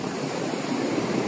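Large ocean waves at Maroubra beach in Australia on a windy day, heard as a steady, close, continuous roar of surf and wash with no voices.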